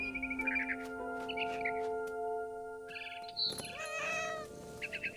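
Cat meowing in the video game What Remains of Edith Finch, several short meows and chirpy calls in a row over a sustained tonal music bed, fairly close and clear.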